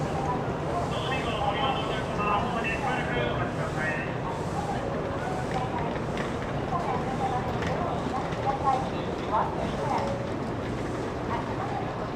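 Rumbling, clattering noise of a train at a busy station in Japan during Golden Week, with indistinct chatter and movement throughout as many passengers get on and off.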